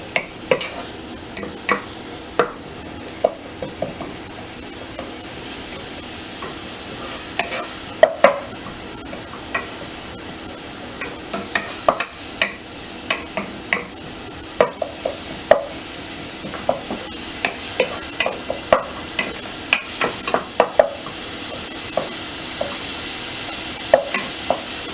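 Flour for Ethiopian genfo sautéing in a pan, with a soft continuous sizzle and frequent sharp scraping clicks of a utensil stirring at an irregular pace, close and steady throughout.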